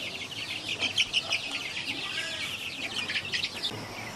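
Many chickens on a free range farm make soft overlapping clucks and chirps near a hut, a dense continuous flock chatter at moderate loudness with a few sharper calls standing out.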